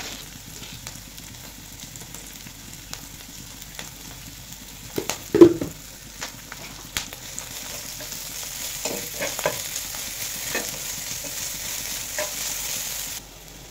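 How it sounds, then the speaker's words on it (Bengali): Onion, garlic and green chili frying in a pan with a little salt, a steady soft sizzle running throughout with intermittent scraping stir strokes, a louder clatter near the middle. "পেঁয়াজ মরিচটা ভাজা হয়ে গেছে"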